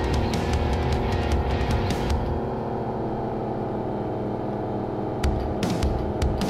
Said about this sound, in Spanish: Vamos a usar el turbo.